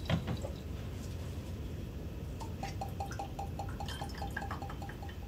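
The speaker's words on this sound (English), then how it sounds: "I am discarding a little bit of solution into a beaker." Sodium chloride solution trickles from a pipette into a beaker in a lab, a soft pour giving way to a quick run of small, evenly spaced drips, near and fairly quiet.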